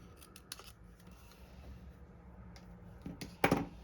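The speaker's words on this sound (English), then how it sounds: "so I just brought my snips with me," A few quiet snips of card with metal snips while making a watercolour card, sparse clicks early and a louder cluster of cuts near the end, no talking.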